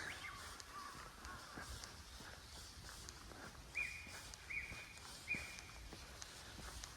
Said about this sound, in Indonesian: suara burung gagak dan burung-burung yang lain kedengaran ya